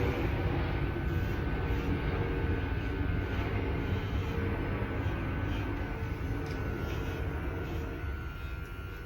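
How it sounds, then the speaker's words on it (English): A passing airplane overhead in an airport flight path makes a steady, broad roar that holds loud throughout and fades slightly toward the end. "we live in the flight path for the airport, so I'll probably hear lots of airplanes"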